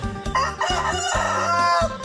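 A Burmese breed rooster crows close by, one drawn-out, harsh cock-a-doodle-doo with strong throaty pulses, loud and alone.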